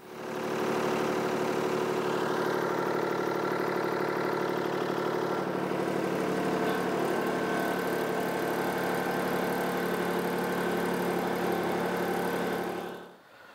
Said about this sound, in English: see how it's doing and if the Kubota is able to pull it through